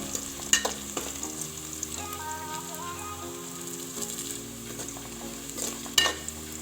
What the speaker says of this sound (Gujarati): આપણે બટેકાને પાકવા દઈશું વચ્ચે વચ્ચે આ રીતે હલાવતા રહીશું જેથી નીચે બટેકા બેસે નહીં અને દાજે